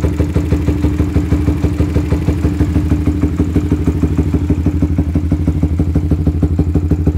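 A Suzuki GSX R150 motorcycle fitted with a CLD Racing Monster Race exhaust idling at around 1500 RPM, a loud, steady, close rumbling engine note with a fast even pulse and slight clatter, no talk.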